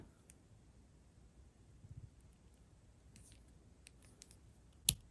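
Apple Watch band snapping into place on the watch body, heard as one sharp, close click after faint handling ticks over a quiet background.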